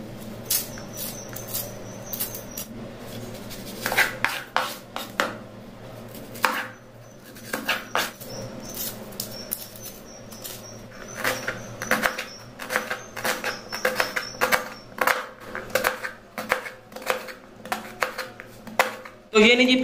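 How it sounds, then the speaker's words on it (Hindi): An onion being chopped with a knife on a board: rapid, irregular close-up knocks in uneven bursts, pausing briefly and then resuming more densely. A faint voice and a little kitchen noise sit underneath. "प्याज को अम्मी जी ने कुछ इस तरह काट लिया"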